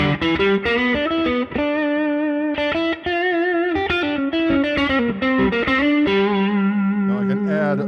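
An electric guitar runs through the overdrive channel of an amp, giving loud, continuous, distorted chords and riffs with sustained crunchy tone. The playing is close and heard on its own.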